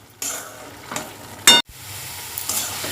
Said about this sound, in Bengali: তো এইভাবে আমি নুনটা দিয়ে ভালো করে একটু নাড়াচাড়া করে আবার চাপা দিয়ে দেবো।